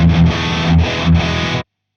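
Electric guitar played through a Two Notes Captor X+ with its twin tracker stereo effect: loud, distorted, doubled chords struck three times in a steady rhythm, then cut to silence, no talking.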